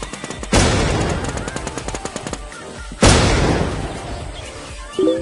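A loud blast followed by a rapid burst of automatic gunfire, then a second heavy explosion and another boom near the end, all close and harsh, in the video game WarZ.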